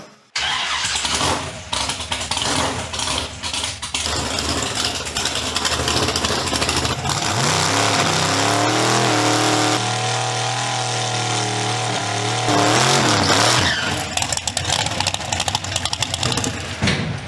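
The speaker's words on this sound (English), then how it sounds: "what better way to do it than to do a third gear burnout inside of the garage here?" A car runs a third-gear burnout inside a garage: a loud, steady engine roar that holds high and then dips briefly before surging again, filling the space continuously without talk.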